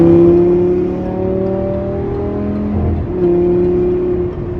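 A tuned Audi R8 engine hums as a steady drone and dips in pitch as it downshifts, then climbs again. The sound is close and loud with no talk.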